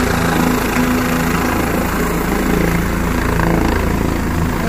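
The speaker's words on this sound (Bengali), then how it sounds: "ফার্স্ট হেলিকপ্টার এখান থেকে যাচ্ছে।" A helicopter lifts off from a mountain helipad on the route to Kedarnath, its rotor and engine making a loud, steady, close droning whir throughout.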